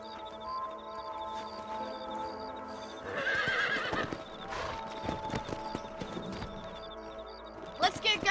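Horses in the video game Red Dead Redemption whinny and snort amid clip-clopping hooves, a loud neigh rising midway over steady hoofbeats, with in-game voices and ambient music threaded through.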